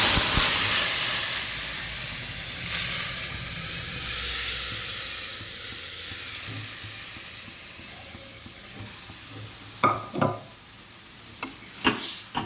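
Boiled peas tipped into fried spice masala for ghugni with sweet potato, raising a broad steady sizzle and hiss that slowly fades, followed by a few sharp clinks and scrapes of stirring near the end.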